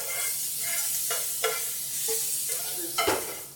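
Ground meat sizzling in a pan for a gemelli nero dish, under a constant hiss, with several spoon scrapes and knocks against the pan spaced a second or so apart.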